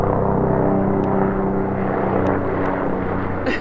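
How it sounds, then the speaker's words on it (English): Helicopter flying past outdoors, a steady low engine and rotor drone that holds loud and even for a few seconds without talking. "Oh, actually, it's a helicopter going by."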